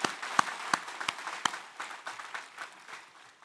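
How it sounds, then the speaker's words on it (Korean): A church congregation at a Sunday service gives a short round of applause, starting with a few sharp, close claps and thinning into scattered, quieter clapping that fades out. "할렐루야, 영광의 박수를 하나님께 드리겠습니다."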